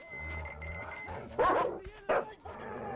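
A dog barks twice in the video game Metro Exodus, loud yelping barks that stand out over a low game background hum.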